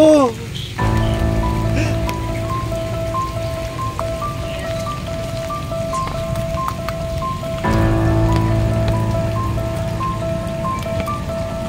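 Steady rain pattering on a surface, with musical tones playing underneath throughout.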